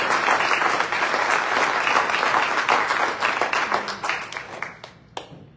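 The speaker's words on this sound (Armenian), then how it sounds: "Գիտեք, ծափահարեք," Audience applause fills a hall during a welcome for a visiting Armenian diocesan primate, dense and loud at first, then thinning into scattered claps before fading out.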